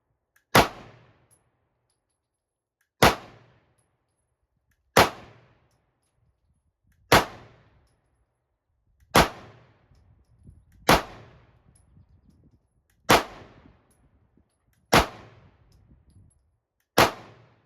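A Smith & Wesson SD9 2.0 pistol fires nine sharp, loud shots at slow, even intervals roughly two seconds apart, each with a short decaying echo, alone outdoors.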